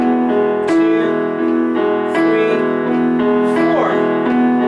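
Piano played with both hands, the left hand joining the right in a simple beginner lesson pattern. Sustained chords ring out with steady note attacks, loud and close, and there is no speech.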